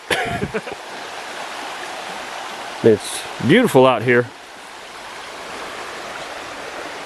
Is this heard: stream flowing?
yes